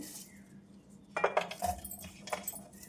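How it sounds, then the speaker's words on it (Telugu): A knife chopping green chillies, ginger and garlic: a few faint clicking cuts cluster near the middle and one comes near the end, set against a quiet kitchen background. "పచ్చిమిరపకాయలు అల్లం ముక్కలు ఈ సైజులో అయితే కట్ చేసుకుంటాను"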